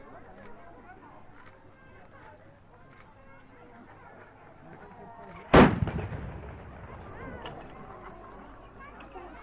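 A single loud black powder gunshot from a historical firearm at a medieval show, a sharp blast followed by a rolling decay, with crowd chatter and background voices around it.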